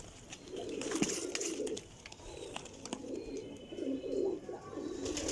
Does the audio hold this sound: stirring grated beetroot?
no